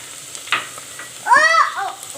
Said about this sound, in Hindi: अब मैं इसमें डाल रही हूँ लहसुन अदरक